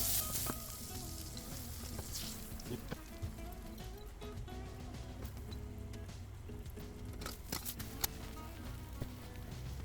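Pancake batter sizzles and fries steadily in a pan, with a continuous crackling hiss, occasional clicks and soft stirring or scraping sounds close by.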